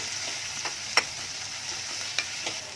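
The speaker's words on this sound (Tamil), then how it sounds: "கருவேப்பிலையும் ஆட் பண்ணிவிட்டு நல்லா வதக்கிக்கலாம்" Onions and curry leaves sauté in a pan for chow chow gravy, giving a steady, moderate sizzle with a few sharp clicks of a stirring spoon against the pan.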